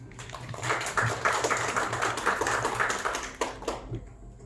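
Audience applause at a cultural reading-circle event marking Puebla's 494th founding anniversary, a fairly soft, steady patter of clapping hands that tapers off near the end.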